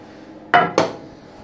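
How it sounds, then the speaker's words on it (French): Two quick metallic clinks of a utensil against a bowl while mixing brandade de morue (salt cod) with olive oil and milk, close and distinct over a quiet background. "On mélange bien tout ça."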